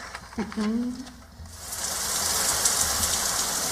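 A rain effect in a radio drama of Huckleberry Finn: a steady, hissing downpour rises and fills the background after a brief spoken exchange, continuing evenly to the end.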